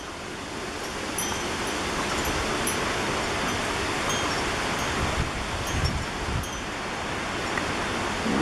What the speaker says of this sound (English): I'm sure you can hear the sounds and the wind and phew!